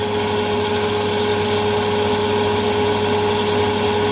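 A 220 V roller pellet mill with a 5.5 kW motor runs steadily, a loud continuous machine drone with a sustained hum and broadband grinding noise, unchanging throughout with no talk.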